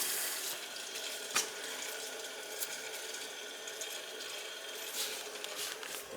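Water flows steadily through the heating pipes of a gas boiler system, a faint continuous hiss with occasional small clicks and taps.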